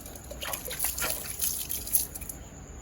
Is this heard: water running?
yes